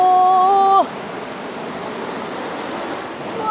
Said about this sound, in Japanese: もう大変迫力のある滝ですね